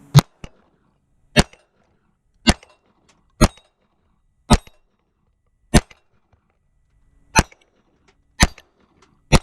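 Taurus TX22 Compact .22 pistol fired through a magazine, sharp loud single cracks spaced roughly a second apart, nine or so shots with quiet gaps between and no talking.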